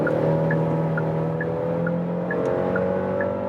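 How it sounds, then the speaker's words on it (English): Car engine accelerating from 90 to 120 km/h, heard from inside as a steady, droning hum with road noise, plus a faint regular ticking throughout. "So let's now accelerate from 90 kilometers an hour to what?"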